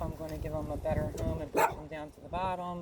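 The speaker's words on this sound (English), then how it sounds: "Girls, no barking." Dogs bark and yip in short bursts close by, overlapping with a person talking, while potting herbs.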